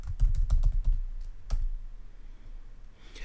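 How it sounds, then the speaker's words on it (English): Keys clack on a computer keyboard in a quick burst of close, crisp taps during the first second and a half, then the typing stops and quiet room tone fills the rest. "you would begin typing the dialogue."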